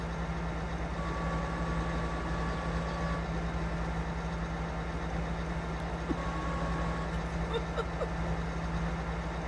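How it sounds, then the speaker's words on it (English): A tractor engine in Farming Simulator 22 idles steadily with a low, even drone and constant hum throughout, fairly quiet and unbroken. "I can't make this tractor work right."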